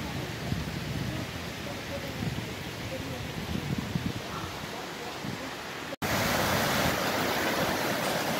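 At the Cachoeira do Escorrega waterfall, falling water makes a steady broadband rush throughout, growing louder and brighter after an abrupt cut near the end.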